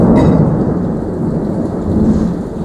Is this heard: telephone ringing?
no